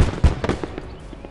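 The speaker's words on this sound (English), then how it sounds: "It's just a little machine gun." A short burst of machine gun fire in the World War II strategy game Gates of Hell: Red Star Rising, several quick loud cracks at the start that trail off into a softer echo.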